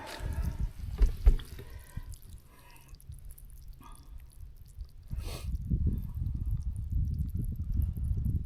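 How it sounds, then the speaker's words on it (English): Water runs from an opened water line on a homestead, a low steady gush with drips that grows fuller and continuous partway through, heard up close with no talk. "to get your water flowing, open up your cap."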